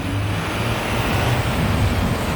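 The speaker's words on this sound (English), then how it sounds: "there's a lot of traffic" Dense, steady road traffic on a Philadelphia street, a continuous low rumble and hiss of passing vehicles with no clear pauses or individual horns.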